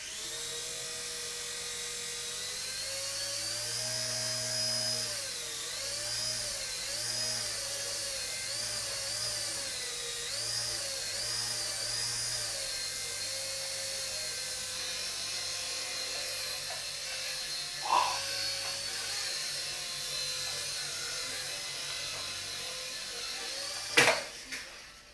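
A Silverlit toy helicopter with a 3.7-volt lithium polymer battery flies nearby, its small rotors giving a steady high whine that wavers in pitch, ending in a sharp knock near the end.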